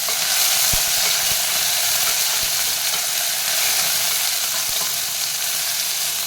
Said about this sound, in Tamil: இதையும் போட்டு எல்லாம் எண்ணெயில் நல்லா வதக்கலாம்.